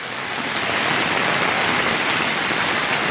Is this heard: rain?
yes